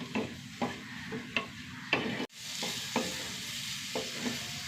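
Onion sautéing in a pan gives a soft, constant sizzle, with repeated scraping stirs at a steady rhythm and one sharp knock partway through, close and without talk.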